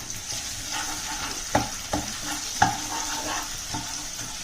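Ginger garlic paste stirred into browning onions in a pan for mutton curry: an ongoing sizzle broken by several distinct spoon scrapes and knocks against the pan.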